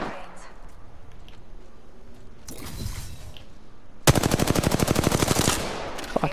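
Gunfire from a video game: a dense, loud automatic burst of rapid shots near the end, after scattered earlier shots and game noise, with no one talking over it.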